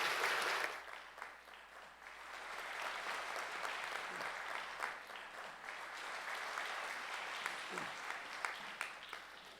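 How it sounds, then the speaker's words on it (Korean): Sustained audience applause at a university presidential inauguration ceremony, steady dense clapping from a large crowd filling the whole stretch after a brief louder opening burst. "우리 따뜻한 박수로 환영해 주시기 바랍니다."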